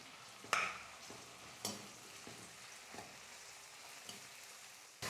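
Onions, green chili and curry leaves sauté in oil for a Kerala-style chickpea curry, with a quiet steady sizzle and a few sharp spoon knocks against the pan.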